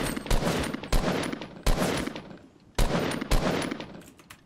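Gunfire in the Fortnite battle royale game: five sharp, loud shots in uneven succession, each with a short noisy tail, and no talking between them.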